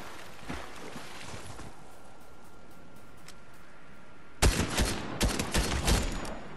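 Gunfire bursts out in Fortnite, with a few faint shots early on and then a loud, rapid cluster of cracking shots close by over a steady ambient background, no talk.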